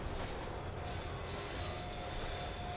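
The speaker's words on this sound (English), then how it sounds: "The tram was slowing down, and I'd only just gotten on board." A tram in the video game Max Payne 3 slowing down, a steady rumbling ride with faint wheel squeal and a thin high tone, heard alone without talk.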